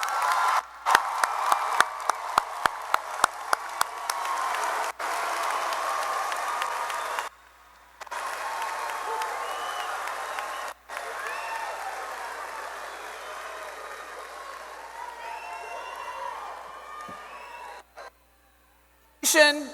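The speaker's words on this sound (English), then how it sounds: "Let's give them one more round of applause." Graduation audience at Maury High School's 2021 ceremony applauding in a large hall, with dense sustained clapping and a few isolated claps, briefly breaking off twice before fading out at the end.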